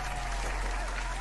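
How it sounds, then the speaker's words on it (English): A short burst of applause from a crowd, as a sound effect. It is a dense, even patter of clapping lasting about a second, moderately faint, with no speech over it. "Get an applause for that."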